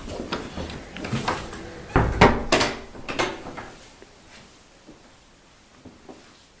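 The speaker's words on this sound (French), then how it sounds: "On va fermer la porte." A door swings and shuts inside a French château, with a cluster of wooden knocks and clunks around the middle of the clip. The sound then falls away to quiet room tone with a few faint taps.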